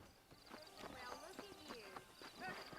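Horse hooves clip-clop in Red Dead Redemption on Xbox One, a steady rhythmic trot of close, moderately loud hoofbeats mixed with game voices and a whinny.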